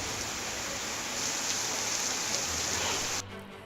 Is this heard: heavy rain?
yes